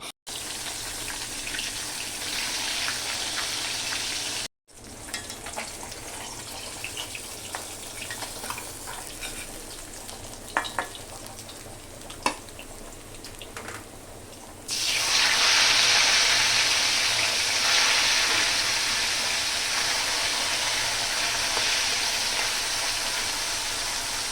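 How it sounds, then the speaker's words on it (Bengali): Steady hissing sizzle of frying runs throughout, growing louder and brighter partway through, with faint clinks and no voices. "দেখুন মাছ ভাজা হয়ে গেছে"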